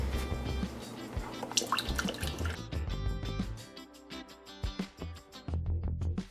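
Water and vinegar are poured for an overnight pickle brine, with splashy pouring, drips and trickles into a container, interrupted by brief pauses and clinks, close and fairly quiet.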